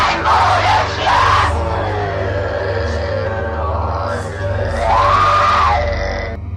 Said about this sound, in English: A demonic scream pierced through the dark veil